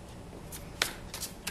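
Tarot cards being shuffled, a few quiet riffling bursts with short crisp snaps scattered over about a second and a half, close up and soft with no one talking.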